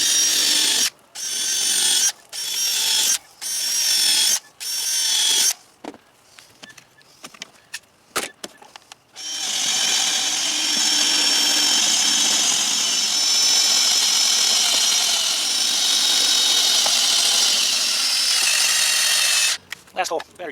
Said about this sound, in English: drill some holes and get those rib nuts in